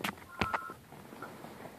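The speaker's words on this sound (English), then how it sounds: "sorry, my phone's going off." A mobile phone goes off with a short burst of electronic tones, a couple of bright beeps near the start followed by fainter softer chirps, fairly quiet and heard alone.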